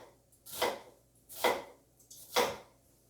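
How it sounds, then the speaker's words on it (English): A knife chops through an onion on a cutting board in three separate, evenly spaced crisp strokes, close and clear, with no talking. "every slice that I make, my pointer finger is going to hold it down when I draw the blade up again."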